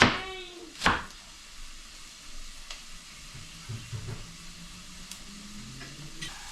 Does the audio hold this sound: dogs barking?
no